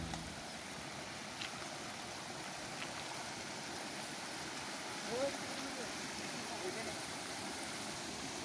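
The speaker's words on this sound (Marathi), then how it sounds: "आपण आता जो पाहत आहात हा एक छोटासा ओढा आहे।" A small stream in Konkan, India, flows with a steady, even wash of water that stays constant and moderately loud throughout.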